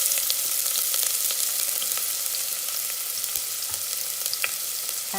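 Onions frying in hot oil for a Mangalorean-style crab curry, a steady close sizzle with fine crackling pops throughout, no talk.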